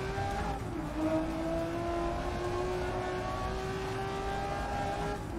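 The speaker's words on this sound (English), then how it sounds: "Oh, this engine sound, so nice." A race car engine in the game Grid Legends holds a high, steady rev with a slight dip and climb in pitch, loud and continuous over road rumble.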